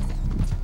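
Horse hooves clip-clop in a rapid, muffled rhythm in the Red Dead Online game, mixed with a dull rumbling background.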